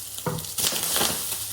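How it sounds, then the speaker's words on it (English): Pork mince sizzling and popping in a hot frying pan for a Thai breakfast, a steady broadband hiss with small crackling pops as the water cooks off, fairly close and continuous with no talk. "Now it's sizzling. It's gone from, because it had water in it. Now it's starting to pop."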